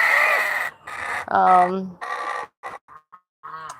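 A rooster at a poultry farm gives a few short clucks and calls between bursts of nearby talk, close and fairly loud.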